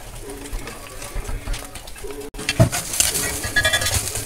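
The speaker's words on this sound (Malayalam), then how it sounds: "വറ്റൽ മുളക്, ഇത് അത്യാവശ്യം ബ്രൗൺ കളർ ആവണ വരെ വറുത്തെടുക്കണം" Dried red chillies roasting in a pan until brown, a soft crackling sizzle with intermittent stirring scrapes that grow busier toward the end.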